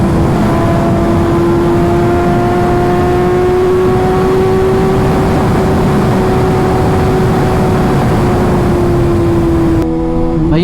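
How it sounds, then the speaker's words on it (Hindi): Steady engine drone of a Kawasaki ZX6R superbike riding through heavy road traffic, a loud constant hum with a rising whine that holds nearly unbroken for about ten seconds before briefly changing at the end. "ट्रैफिक बहुत है रोड पे।"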